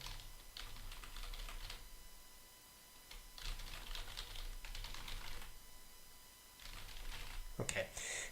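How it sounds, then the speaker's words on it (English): Keys clatter on a computer keyboard in quiet bursts of rapid typing separated by short pauses, picked up faintly from behind a streaming microphone in a small room. "So I'm guessing you guys are hearing the typing really easily."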